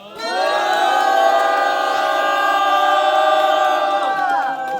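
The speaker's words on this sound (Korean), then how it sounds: "23번째 우리가 나무다 힘찬 함성과 박수로 시작하도록 하겠습니다." Loud crowd cheering and shouting at an outdoor protest rally of residents opposing a pumped-storage power plant, a sustained roar of many voices holding steady for several seconds before tapering at the end.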